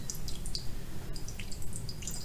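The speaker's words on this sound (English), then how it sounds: "I'm going to pour this mixture, it's water, dissolved salt, and pepper, through my coffee filter carefully so that it doesn't spill over the edge." Salt water with dissolved pepper drips through a coffee filter, faint soft ticks of falling drops against a quiet background with no voices.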